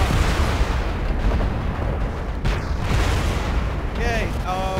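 Mech weapons fire in the MechWarrior Living Legends video game on an urban jungle map, heavy booming artillery-like blasts over a constant roar, with voices speaking over the battle.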